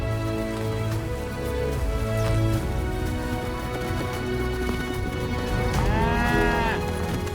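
Cattle from a herd of 140 on a British countryside farm low and moo in long drawn calls, several overlapping voices close by against a steady wash of rain or outdoor noise.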